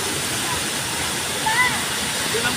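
Steady broadband rush of Tay Tay Falls pouring down on a busy Friday with many bathers around, a constant near roar with faint voices and whistles briefly rising over the water.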